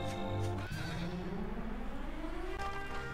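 A horse whinnies in the video game Dragon Quest VIII, a loud neigh that drops in pitch and trails off, followed by a softer sustained call over game background sound.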